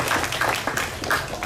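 A short burst of audience applause at a parliamentary museum visit, with scattered hand claps over a murmur of the room, lasting only a moment at moderate volume.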